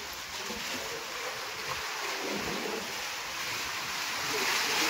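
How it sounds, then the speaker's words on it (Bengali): Rough sea waves churn around a boat, a steady loud broadband wash with wind buffeting, swelling slightly toward the end, with no talk. "কিভাবে ঢেউ চলছে দেখুন।"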